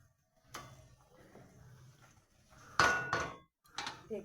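A lid goes onto a cooking pot while potol posto is being made, with sharp close metallic clanks and a ringing clatter among scattered quieter kitchen knocks.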